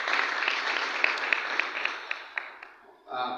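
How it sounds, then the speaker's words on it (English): An audience claps for the government at a community gathering, a steady mass of hand claps with a few sharper individual claps, tapering off before a voice begins speaking at the end. "Let's clap for the government for that"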